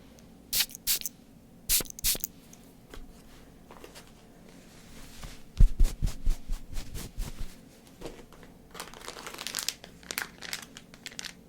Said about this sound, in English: I spray a little bit of the numbing agent on there